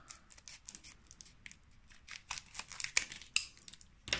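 Scissors snipping open Pokémon trading card booster packs, a quiet, close series of small crisp cuts and crinkling foil wrapper sounds, with no talking.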